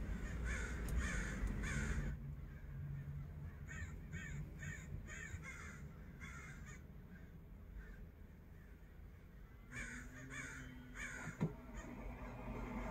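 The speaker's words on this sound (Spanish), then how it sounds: "Y vean cómo pasan los pájaros por donde quieran, oigan el ruidajal que traen. Pero hay muchísimo cuervo" Many crows cawing at a California seaside, repeated harsh calls in irregular bursts over steady surf-like background noise, fairly close and loud with no speech.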